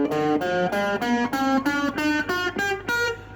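Electric guitar picking a minor blues scale one note at a time, including the flattened fifth, about nine clear sustained notes in steady rhythm, moderately loud and alone.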